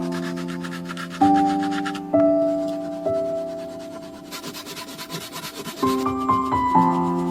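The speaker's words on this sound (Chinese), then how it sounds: "想要使木板变得光滑， 就需要用刨子细细打磨" A hand plane shaves rough wooden boards at an outdoor wilderness build, with a few long rasping strokes over steady background music.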